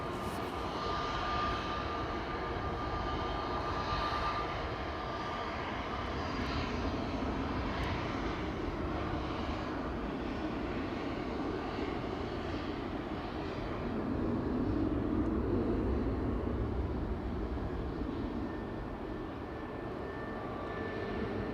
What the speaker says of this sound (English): 777 starting its engines